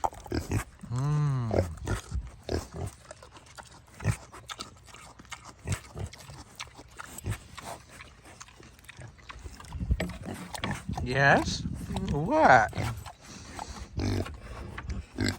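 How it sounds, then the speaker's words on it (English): Pigs grunt and snuffle at close range during spring farm cleanup, with rough bursts and a few squeal-like harmonic calls; a person talks to them now and then. "You silly pigs."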